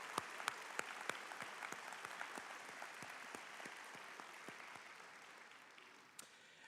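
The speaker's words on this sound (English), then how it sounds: "give a round of applause to all the people that are here supporting you" Applause at a college graduation ceremony sounds faint and distant, a soft bed of many clapping hands punctuated by a few crisp, closer individual claps at a fairly regular pace.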